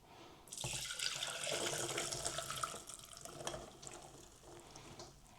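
Cooked bean water drains steadily into a sink, a continuous splashing rush that fades down toward the end, nearby and fairly quiet.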